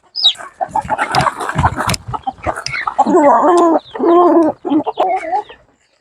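Several native country chickens on a poultry farm cluck and murmur close by as they feed, with scattered sharp pecking and scratching sounds between the calls.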